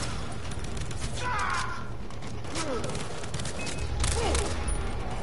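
Gunfire from a Far Cry 3 enemy-camp fight, a steady spread of shots and bursts in a busy game mix with faint voice-like fragments under it.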